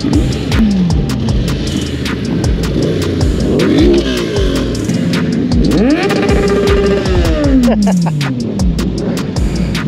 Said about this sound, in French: On assiste à un concerto de taux d'échappement là.